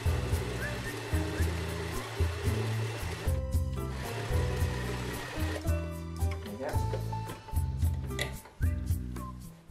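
A sewing machine runs a straight stitch along a denim seam on upcycled jeans, with a rhythmic mechanical ticking in repeated bursts and pauses, close and fairly loud, while someone talks intermittently.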